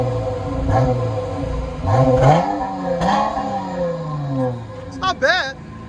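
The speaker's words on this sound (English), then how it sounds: "Rev it up. Rev it high." A 2012 Dodge Challenger with a 3.6L V6 and Flowmaster Outlaws exhaust revs outdoors in several rising, roaring bursts, with people talking over and between the revs.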